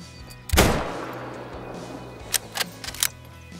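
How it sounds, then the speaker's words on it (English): A single rifle shot fired into the air in theHunter Call of the Wild cracks out loud and close, trailing a long echoing decay, followed by a few faint clicks. "so I'ma fire a shot into the air and we'll see if he spooks"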